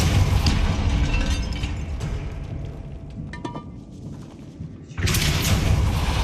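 A Depulso force spell cast inside a tomb in Hogwarts Legacy: a low rumbling boom that fades away, followed by another sharp, loud burst near the end.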